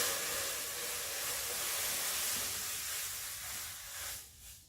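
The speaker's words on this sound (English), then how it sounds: "got a litre of water already boiling" A litre of water boiling in a pot for a homemade cold and flu tonic gives a steady, close hiss of steam and bubbling that fades near the end.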